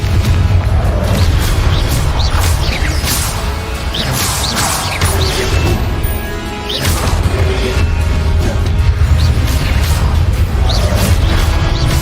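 Spell blasts and explosions fired in combat in Hogwarts Legacy, a steady loud barrage of booms, crashes and whooshes repeating across the whole stretch with hardly a pause.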